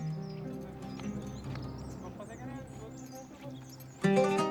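Horse hooves clip-clop in the mountains near Tashkent, Uzbekistan, a steady run of hoofbeats under a continuous French narration voice, with a louder burst near the end.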